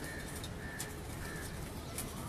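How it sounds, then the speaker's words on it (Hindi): Pigeons coo softly on a rooftop loft, low repeated murmuring calls amid faint background noise, with occasional brief wing or bird sounds and no talk. "ज़बरदस्त लाजवाब परवादी कबूतर।"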